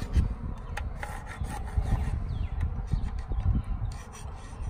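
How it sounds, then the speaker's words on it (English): A brass scraper scrapes old gasket residue off the face of a gas meter, giving continuous gritty rubbing strokes, close and fairly loud, with uneven rhythm. "So you're going to use what's called a brass scraper. Scrape any old gasket residue off."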